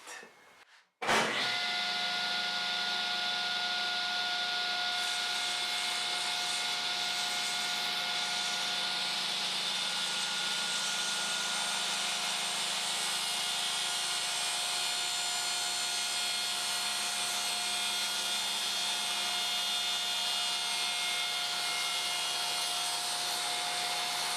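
A table saw runs steadily with a constant loud whine and whirring hum after switching on with a sharp start, cutting through a wooden table leg for over twenty seconds without speech.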